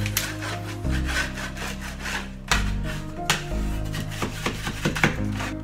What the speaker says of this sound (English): So first things first, you scrape everything off.